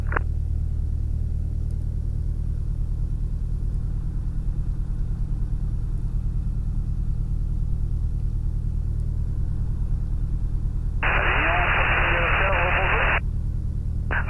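A light aircraft's engine drones in a steady, loud, low hum through a cockpit headset during a solo takeoff, while a radio voice crackles in briefly near the end.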